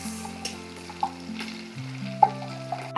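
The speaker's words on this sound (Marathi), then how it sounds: "ही सगळी पेस्ट आपल्याला ह्या तेलामध्ये टाकून परतून घ्यायची" Pav bhaji paste fries in hot oil with a soft, steady sizzle, broken by a few faint scrapes or taps of a spoon against the pan, close and without talk.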